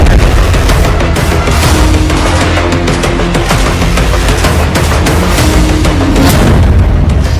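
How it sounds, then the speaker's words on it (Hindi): Dense, continuous barrage of booms and rapid gunfire from the war in Gaza, loud and unbroken throughout with layered explosions and bursts of automatic fire, no voices. "बारूद और गोलियों की बौछार।"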